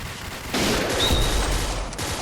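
Gunfire in the video game Point Blank: a loud burst of shots starting partway through and holding steady for under two seconds, with a brief ricochet-like whine in the middle.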